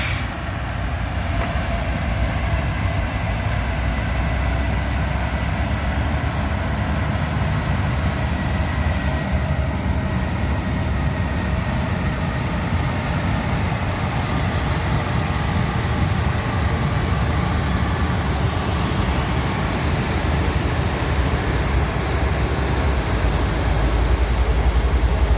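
Freight locomotives, ET44AH sister units, haul a train loaded with railroad track maintenance equipment past the listener near Abbeville. A loud, continuous diesel drone and rail roar fill the whole stretch with no voices.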